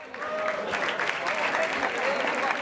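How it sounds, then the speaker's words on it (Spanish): Crowd applauding a two-on-two freestyle rap battle in Buenos Aires, steady close clapping mixed with shouts and cheering voices, loud and continuous throughout. "quiero un fuerte aplauso por esta batalla que se dio en el lugar"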